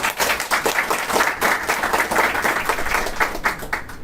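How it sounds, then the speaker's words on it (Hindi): Enthusiastic clapping from a classroom audience at an IAS coaching academy, close and lively, with uneven bursts of hand claps swelling and fading over a few seconds. "पहले तो एक जोरदार ताली बताइए दोनों के लिए।"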